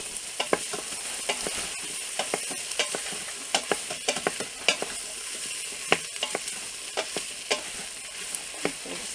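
Potatoes and garlic sauté in a pot with a steady broadband sizzle, punctuated by frequent sharp scraping and stirring clicks throughout, close and fairly loud with no talking.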